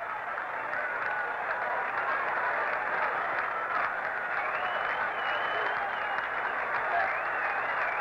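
A baseball crowd at Yankee Stadium during an Angels at Yankees game reacts to a foul ball hit upstairs out of play, giving a steady, dense roar of cheering and applause that holds evenly throughout with no clear voices standing out.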